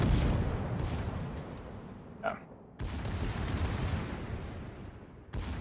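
Secondary guns on a warship in World of Warships firing in a series of rolling booms, several loud volleys separated by short lulls, with no talking.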